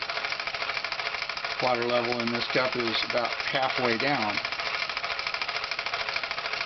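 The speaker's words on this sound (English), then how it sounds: "the engine's slowing because of the cool water going into the boiler and because of the load of pushing it in against the steam pressure." A Falk 450 overtype model steam engine runs with a steady rapid mechanical chuffing and clatter throughout, while a person talks over it in the foreground.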